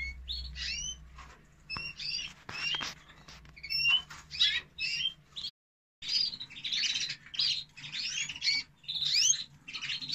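A male canary in breeding condition sings close by in bright, rapid trilling phrases separated by short pauses, with a brief silent gap partway through and a faint hum beneath.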